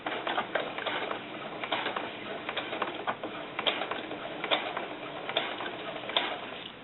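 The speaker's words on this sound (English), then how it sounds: "I'm sewing vinyl back to vinyl back" A home sewing machine with a regular presser foot and needle stitches a quarter-inch seam through two layers of vinyl for doll snakeskin boots. It makes a steady, fast rhythmic clatter of needle strokes with small irregular bumps, close up and without voices.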